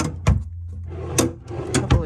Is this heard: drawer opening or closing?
yes